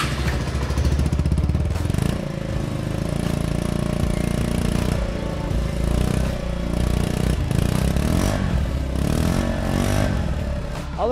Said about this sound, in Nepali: अब हामी यो बाइकको एक्जस्ट साउन्ड सुनौँ है।